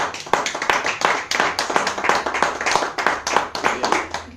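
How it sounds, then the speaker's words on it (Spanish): Church congregation clapping together, loud and close, with sharp individual claps forming a quick, somewhat rhythmic pattern throughout. "Ahora denle un fuerte aplauso al Señor."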